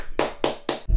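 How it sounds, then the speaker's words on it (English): Three sharp hand claps in quick, even succession, close and moderately loud, forming a brief round of applause. "Have a round of applause,"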